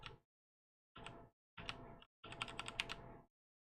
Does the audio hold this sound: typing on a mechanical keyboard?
yes